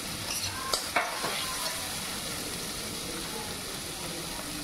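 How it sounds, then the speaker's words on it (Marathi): Onions frying in a pan over raised heat, a soft steady sizzle with a few sharp clicks of a utensil stirring early on, fairly quiet and close. "कांद्याला असं शिजवून घ्यायचं."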